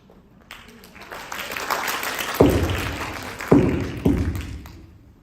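A high school audience claps through a stage production of Clue, the applause swelling into a few loud bursts of dense clapping with thuds, close and fairly loud, with no talk over it.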